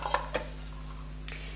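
Metal mess tin pot from a survival kit handled up close, a few faint light clinks and knocks separated by quiet pauses over a steady low hum.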